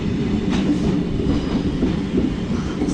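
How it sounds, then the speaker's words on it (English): An NGR commuter train rolls into a station platform at Ascot, a steady close rumble of wheels and motors with faint rail clatter throughout and no voices. "Our train is coming in."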